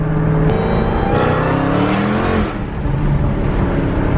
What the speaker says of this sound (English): A third gear 40 roll and we spun.